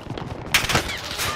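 Gunfire erupts in a video game, starting as a sudden loud burst partway through and continuing as a dense, close rattle of rapid shots, with no talking.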